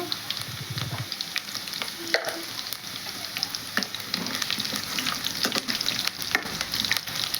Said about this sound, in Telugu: పోపు దినుసులు అయితే వేస్తున్నాను.